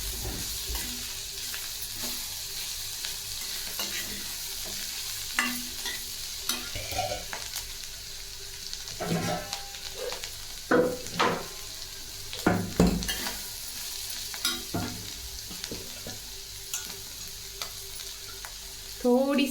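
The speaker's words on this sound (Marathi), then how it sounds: "मिक्स करून घ्यायचं आहे याला पण छान।" Ghevda bean vegetable seasoned with salt fries in a pan while being stirred, giving a steady close sizzle with intermittent scraping and clinking strokes of the spoon and no talking.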